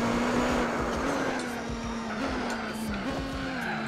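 Race car braking hard with tires skidding and squealing in the Gran Turismo 4 video game, a steady loud engine drone with a continuous tire screech lasting the whole few seconds.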